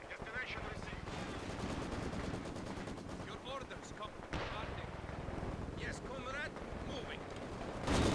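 Rapid machine-gun and rifle fire in a Company of Heroes 4v4 battle on the Port of Hamburg map, sustained bursts with scattered impacts throughout, loud and continuous, with faint talk underneath.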